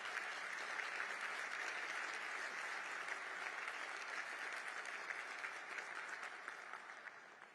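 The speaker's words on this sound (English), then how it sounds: "So please applaud Abby whether you want to or not" Audience at a gala in Washington, D.C. gives a sustained round of applause, dense, even clapping that holds steady for several seconds before gradually fading.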